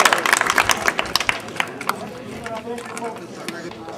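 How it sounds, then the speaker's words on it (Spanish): Applause at a community assembly in Umamarca breaks out in dense, crowded claps that thin out over about two seconds, leaving a murmur of voices and talk. "¡Fuerte aplauso!"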